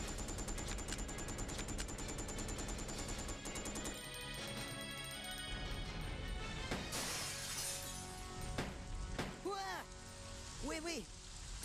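Gunfire rings out in Resident Evil Code Veronica as sharp, repeated shots and clattering bursts, mixed with shattering and rain-like noise, while a voice speaks.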